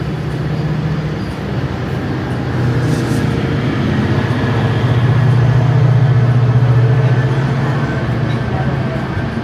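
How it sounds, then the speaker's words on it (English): A GO train heading west toward Mississauga rumbles past near Bloor Street West in Toronto, a steady loud low roar that swells in the middle, with faint voices underneath. "So at least we saw the GO train."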